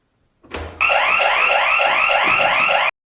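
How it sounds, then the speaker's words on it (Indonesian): A loud, continuous electronic alarm rings in a fast repeating warble, starting abruptly after a brief thump and holding steady until it cuts off. "mereka langsung dikagetkan dengan alarm yang bunyinya sangat kencang"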